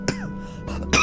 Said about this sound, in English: Normally I've been muting my coughing fits, but that one was right on time.